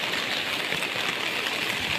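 Heavy monsoon rain in Konkan, in Sindhudurg district under a red alert: a dense, constant roaring hiss of downpour fills the air with no break.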